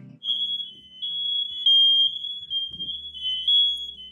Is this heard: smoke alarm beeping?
yes